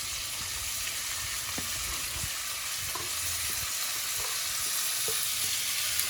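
Black bean soup with vegetables such as celery being stirred and moved around in a pot, a steady close sizzle with soft intermittent scraping taps, no voices.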